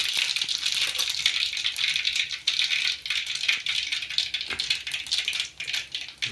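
Cumin seeds crackling in hot oil for a tempering for stuffed chilli curry, a steady dense patter of tiny pops and spits close by, with no talking.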